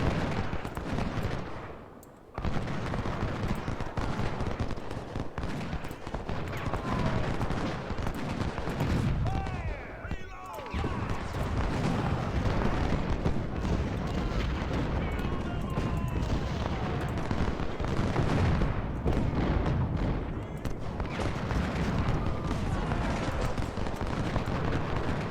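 A Civil War battle in Ultimate General: Civil War, with dense continuous gunfire and artillery rumble at steady volume and a brief dip or two. The roar of the fight goes on throughout.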